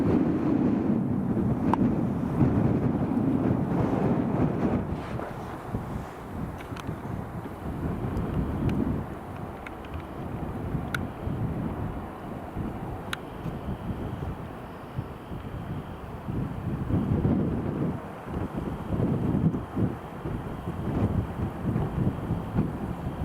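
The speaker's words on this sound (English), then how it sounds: "Ryanair's next to land." A Ryanair airliner comes in to land at Edinburgh Airport, a distant, low, rumbling engine roar that lasts the whole stretch beneath gusty wind buffeting the microphone.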